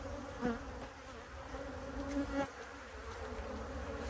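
Agitated honey bees swarm around an open hive in a steady, dense buzz, with individual bees whining louder as they pass close by.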